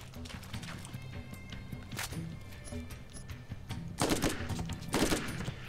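A Dahl burst-fire gun in Borderlands shoots a few short bursts, with quick rattling volleys standing out against a steady game backdrop, the loudest two near the end.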